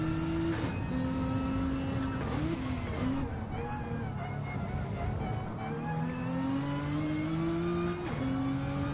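A Gr.4 race car in a racing video game drones with a steady engine, gear changes shifting its pitch, while thin tyre squeals rise faintly beneath.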